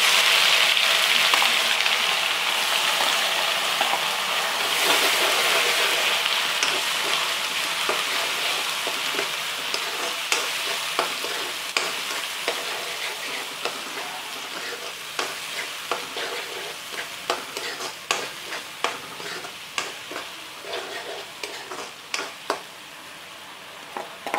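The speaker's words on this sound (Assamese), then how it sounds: "এতিয়া মই ইয়াত দিম পিঁয়াজ। মই পিঁয়াজ দিছোঁ।" Chopped onion sizzles and fries in hot oil in a pan while being stirred, steady crackle with frequent sharp scraping clicks of the spoon against the pan, close and alone with no talk, gradually settling lower.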